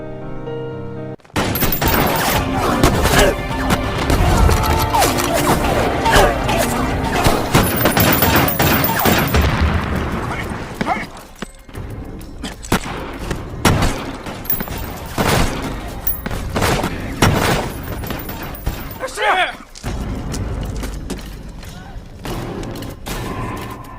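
A revolutionary army's assault on the Guangzhou governor's residence in the film 1911: dense, continuous gunfire and booming explosions, loud and chaotic for most of the span, easing into scattered shots and thumps toward the end.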